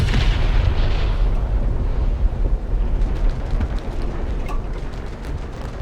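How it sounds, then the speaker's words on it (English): Marder tank gun firing in a Stalingrad map battle game, a heavy boom that rolls into a long, rumbling, continuous low roar of battle noise with no talk. "Oops, that was a failed shot."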